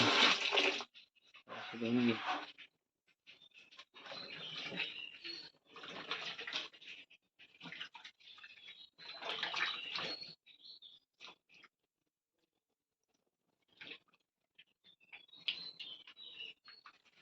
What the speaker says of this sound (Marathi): चांगले साफ करून घ्यायचे धुवून व्यवस्थित